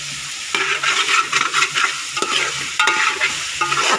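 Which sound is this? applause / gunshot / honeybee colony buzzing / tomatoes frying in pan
tomatoes frying in pan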